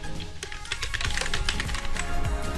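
A name being typed on a computer keyboard as a rapid, uneven run of light key clicks, close and fairly quiet, with no one speaking.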